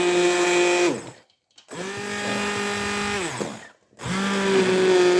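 A hand blender whirs loudly in three bursts, pureeing strawberries for jam in a pot, its motor pitch dropping as it churns, with short silent pauses between runs.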